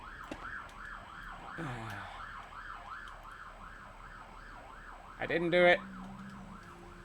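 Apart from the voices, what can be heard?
ambulance siren passing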